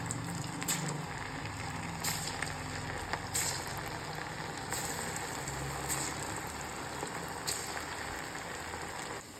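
Pieces of taro root fry in hot oil over a medium flame, giving a faint, steady crackling sizzle with occasional sharper pops, continuous throughout with no voices.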